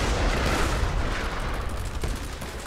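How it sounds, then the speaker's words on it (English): Dense, continuous gunfire from a Roblox Conquest battle rattles along in a steady barrage, with no talking over it. "they're firing"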